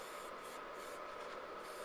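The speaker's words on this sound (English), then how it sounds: "I just spray the tree all over, so it gives it a brown texture" An aerosol spray can hisses in a steady continuous stream as brown paint is sprayed all over a model tree, close up with no talking.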